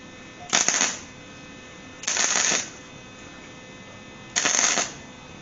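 Three short, bright zaps from a welder fixing a clutch torque shaft on metal, each burst about half a second long and spaced a couple of seconds apart, loud and close over a quiet hum.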